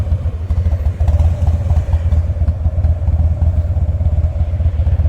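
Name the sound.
moped riding past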